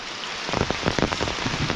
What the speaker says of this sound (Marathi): आणि पावसानं जोर केला आहे.